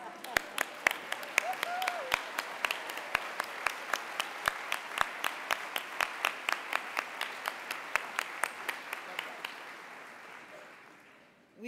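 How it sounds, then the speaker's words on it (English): An audience at a nursing summit applauds, with a handful of loud, evenly spaced claps close by standing out over a broad wash of crowd clapping that slowly thins over about eleven seconds. "please stand and applaud and wave those red bags"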